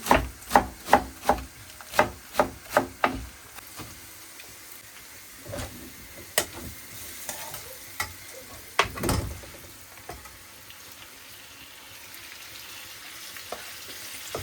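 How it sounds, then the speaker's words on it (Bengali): Snake gourd and egg frying in a pan with a steady low sizzle, while a spatula clacks sharply against the pan in a quick run of stirring strokes early on, followed by a few scattered knocks, close and fairly quiet. "তো ডিম দিয়ে হচ্ছে আমি চিচিংড়া ভাজি করছি, আর এই সাইডে হচ্ছে ঢেঁড়স ভাজি করব।"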